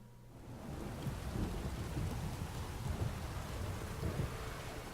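A heavy downpour from The Witcher 3 fills the scene as a steady, dense hiss of rain on surfaces, with low rumbling underneath and no one speaking.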